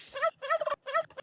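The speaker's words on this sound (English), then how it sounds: "All the gobbling." A turkey gobbles in three quick, warbling bursts, close and clear with no voices over it.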